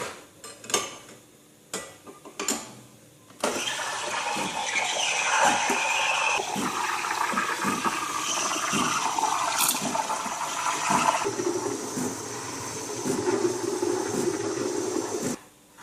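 An espresso machine steam wand hisses and gurgles loudly and steadily frothing milk for a cappuccino, running continuously for several seconds after a few short clinks.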